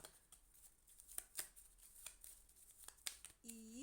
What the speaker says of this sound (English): So I will start shuffling the cards.